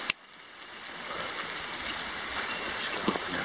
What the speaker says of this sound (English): Yeah, she's flowing pretty well.